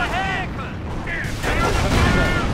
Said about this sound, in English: both rockets just hit the wall in front of them